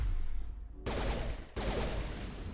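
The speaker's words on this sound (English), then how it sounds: "Hey, stop shooting my crewmates" Mass Effect Legendary Edition combat with dense overlapping gunfire and explosive bursts, loud and continuous, cut by brief gaps, with no talking.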